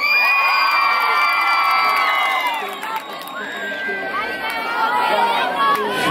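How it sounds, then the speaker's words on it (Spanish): Crowd at an outdoor concert in a town plaza cheering, whooping and shouting loudly, a dense wash of voices that dips briefly midway before swelling again. "El aplauso que se vale."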